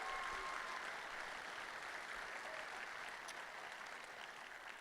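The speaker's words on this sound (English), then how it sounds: "Give Mayor Caroline Simmons another round of applause." A crowd applauds steadily at a distance at a town hall meeting in Stamford, with continuous even clapping that fades slightly toward the end.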